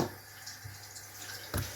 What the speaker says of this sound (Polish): i zalewamy wodą.